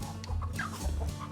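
Molting farm chickens cluck and squawk nearby in a yard, a busy overlapping chatter of short calls over a low rumbling background.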